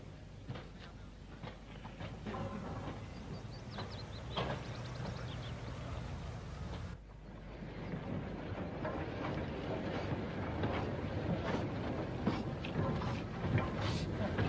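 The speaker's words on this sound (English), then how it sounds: "49407, one of the early locos from the first batch built by the LNWR, is at work at the Midland Yard in Wolverhampton." Steam locomotive 49407, an early LNWR-built engine, working at the Midland Yard in Wolverhampton in the 1950s or 60s, giving a steady rumbling, clanking rail noise that continues throughout and grows slightly louder after a brief dip midway.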